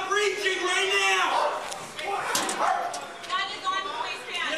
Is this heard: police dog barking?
yes